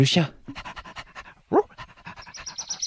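A dog pants in quick, rhythmic breaths close by, the huffing mixed with a voice talking over it.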